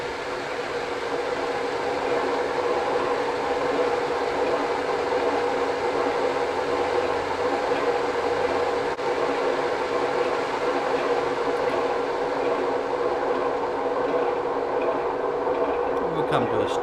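A Heljan O gauge Class 33 model diesel locomotive runs with its sound unit, giving a steady engine drone at a constant level throughout as it throttles back on a downhill run.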